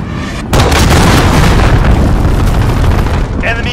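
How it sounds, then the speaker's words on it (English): A huge cruise missile explosion in Call of Duty Modern Warfare hardcore Kill Confirmed, a sudden loud boom that rolls into a long, dense roar. It blends with battlefield noise and a radio-style voice callout. "Enemy cruise missile."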